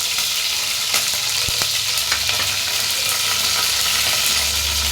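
Fresh curry leaves hit hot oil for rasam, setting off a loud, dense, crackling sizzle that stays steady throughout, with only faint stirring sounds beneath it.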